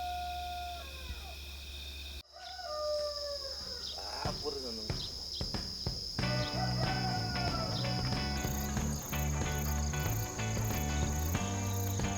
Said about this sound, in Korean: 지금 새소리가 들려오고 지금 아침이 밝았습니다